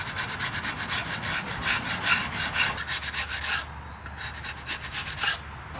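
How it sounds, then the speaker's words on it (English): A sharp drawknife shaves wood from a bow limb in rhythmic, close scraping strokes, about a dozen rasping pulls in quick succession with a short pause near the middle, no voices. "we're gonna switch over to the sharper draw knife, see if it makes a difference"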